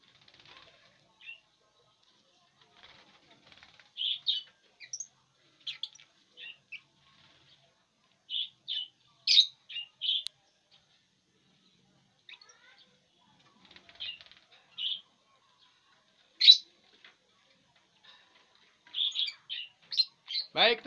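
Cobalt lovebirds in a colony cage flutter and chirp in short, scattered bursts across a long quiet stretch, with wingbeats and high tweets coming close by and ending in a louder flurry.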